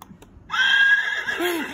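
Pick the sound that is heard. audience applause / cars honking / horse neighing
horse neighing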